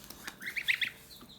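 Kholmogory goslings, eight days old, give a short run of high peeping calls, several quick chirps close together and fairly loud over quiet room noise.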